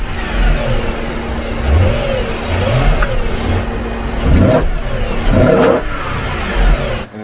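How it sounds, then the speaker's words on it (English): A BMW M3 with a naturally aspirated engine and eight individual throttle bodies revs loudly and close up, rising and falling in repeated swells over a steady engine drone. "8 throttle bodies sucking in air. That's why I get that beautiful sound."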